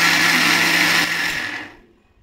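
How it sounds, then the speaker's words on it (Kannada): Mixer grinder whirring loudly as it grinds coconut, a dense steady motor roar that winds down and fades out near the end. "ಸೊ ದೆನ್ ಕೋಕೋನಟ್ ಅಷ್ಟೇ ಗ್ರೈಂಡ್ ಮಾಡ್ಕೋಬೇಕು"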